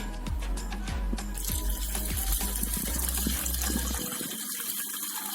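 Rice water is poured into rasam, a steady liquid gush and splashing over about four seconds that then stops abruptly, close and alone.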